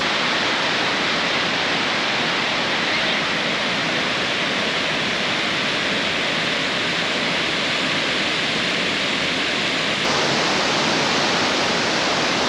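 Steady, loud rushing roar of the Kuhua Pool waterfall in a cool stream valley on a short trail near Nanzhuang, Miaoli, constant broadband noise throughout with no voices.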